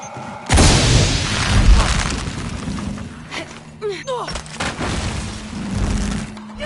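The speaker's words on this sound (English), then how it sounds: "Have to create an explosion." A loud boom bursts out in Shadow of the Tomb Raider, followed by rumbling debris and crackling. Game noise and scattered impacts carry on afterward.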